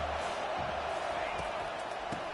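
Stadium crowd roar in the NCAA Football 25 video game, a steady dense wash of fan noise throughout with faint thumps, under game commentary.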